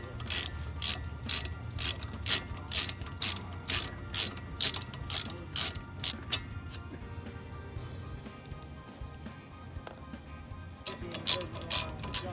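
A ratchet wrench with a 14 mm socket loosens the wheel hub bolts on a 2007 Saturn Aura, giving fast, loud, evenly spaced clicking bursts for about six seconds, a quiet pause, then another short run of clicks.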